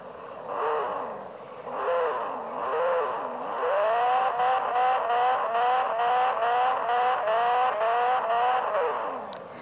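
A Gol car engine revving repeatedly, with rising and falling pitch sweeps that speed up into quick successive rev blips, loud and close with no talking.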